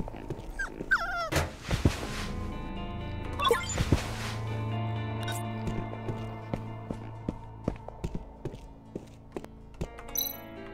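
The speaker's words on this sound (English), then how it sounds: "What's wrong with this dog?" A malnourished corgi in the video game Tales of the Neon Sea whimpering and yipping in short bursts, with soft pattering steps and game chimes under a musical backdrop, no talking.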